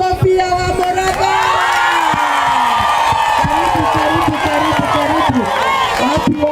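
A lively audience at a political gathering in Ol Kalou responds with loud cheering, whoops and scattered clapping that hold steady throughout, mixed with shouted voices close by.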